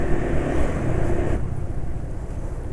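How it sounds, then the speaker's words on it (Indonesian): An engine running rough on Cepsa 20W-50 oil, a steady, dense mechanical drone with a close, gritty low rumble that drops somewhat in level halfway through, with no speech. "suara mesinnya jadi yang paling kasar."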